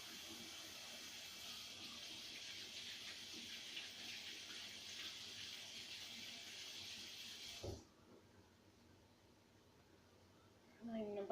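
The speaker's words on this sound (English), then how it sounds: "first I'm going to wash my hands" Tap water runs steadily for several seconds as hands are washed under it, a close, even hiss that stops abruptly, followed by quiet and a brief sound at the end.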